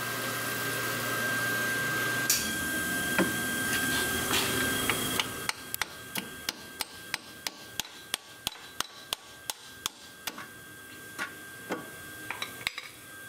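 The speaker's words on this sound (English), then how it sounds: "Now we are going to tap the back of the CV joint to take it off." A car CV joint is tapped off its shaft with a series of sharp metallic knocks, irregular at first, then a steady run of close, ringing blows, with no voices.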